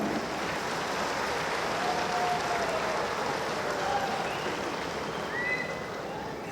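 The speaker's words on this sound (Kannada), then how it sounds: "ನಿಮ್ಮ ಜೋರಾದ ಚಪ್ಪಾಳೆಯ ಸ್ವಾಗತ" An audience at an event applauds in welcome of the Chief Minister, a steady, fairly distant wash of many hands clapping that holds for several seconds and eases slightly at the end.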